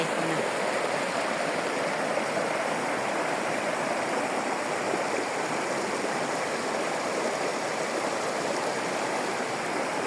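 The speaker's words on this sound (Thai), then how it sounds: "ดูน้ำตกมาเล่นน้ำตก" A mountain waterfall and stream in Switzerland's Suldtal rush in a loud, steady, unbroken wash of water, with no other sounds rising above it.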